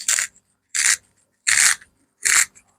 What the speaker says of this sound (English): I think this is sharpening our carrot.